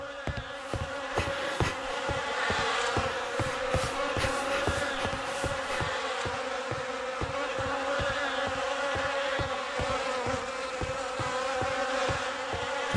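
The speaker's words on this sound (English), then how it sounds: "The air is heavy with the stink of rot and the buzzing of those damned insects." Dense, steady buzzing of a swarm of insects in The Fidelio Incident video game, continuous and fairly loud throughout with faint rhythmic thumping underneath, no voices.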